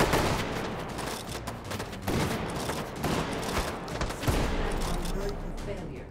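Shotgun fire in the VR shooter Hot Dogs, Horseshoes & Hand Grenades on a WW2 custom map: rapid booming shots and a busy, dense crackle of gunfire, heard under a voice.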